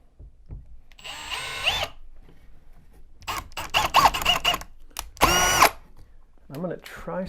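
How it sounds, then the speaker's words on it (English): A power drill whirs in several bursts, winding up and stopping as screws are driven through sheetrock into plywood, close and loud, with a voice speaking between runs. "I'm going to use the other screws to go through the sheetrock into the plywood."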